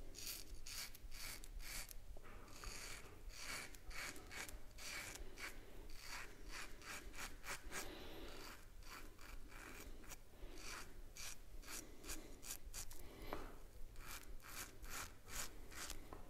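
A Muhle R41 safety razor fitted with a Gillette 7 O'Clock blade scrapes across stretched, wet skin on a first pass, making close, rhythmic rasping strokes that repeat steadily with brief gaps between them.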